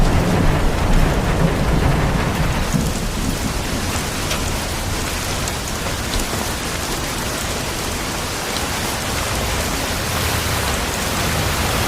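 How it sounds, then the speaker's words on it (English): Steady heavy rain with rumbling thunder from a cutscene in the Bee Movie video game, a dense, continuous wash of rainfall that stays loud throughout with low rolling thunder underneath. "Raindrops keep falling on my head."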